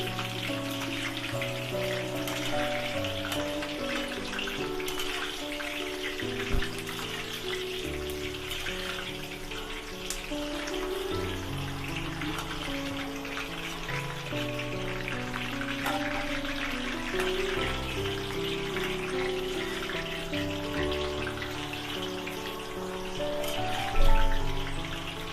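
Cauliflower pieces fry in hot oil for vegetable pulao, a steady, soft bubbling crackle that carries on evenly throughout with no talking.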